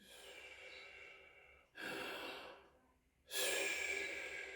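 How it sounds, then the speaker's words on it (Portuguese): Deliberate breathing demonstration showing the natural movement of the diaphragm: a steady exhale, then two strong, loud breaths drawn in and pushed out, close and clear with no talk. "esse movimento natural da respiração que o diafragma ele faz assim"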